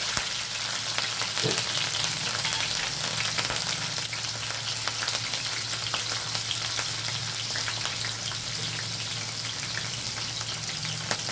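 Green chilies sizzle in hot oil for a tempering with black gram dal and cumin, giving a steady, dense, close crackle that runs evenly throughout without talk.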